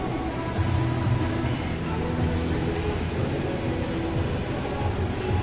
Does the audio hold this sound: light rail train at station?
yes